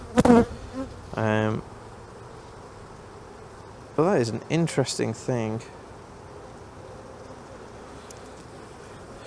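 Honey bees buzz steadily in the background while a beekeeper inspects the hive during a first spring check after winter, with someone talking in short bursts over the insect drone.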